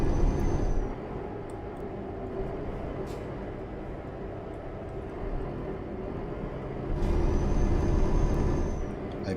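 Engine drone from a heavy truck overtaking in Euro Truck Simulator 2, a steady low rumble that swells louder near the end, with brief hissing bursts at the start and later.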